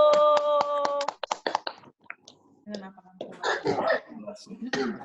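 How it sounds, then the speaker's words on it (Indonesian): Scattered hand claps from people on an online call, bunched at the start under a cheering voice, then giving way to quieter chatter and taps. "Kita tepuk tangan dulu"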